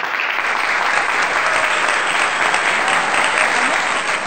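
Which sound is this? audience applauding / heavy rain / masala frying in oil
audience applauding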